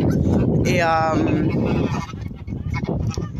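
A single loud Toulouse goose honk close by, rising over constant outdoor noise.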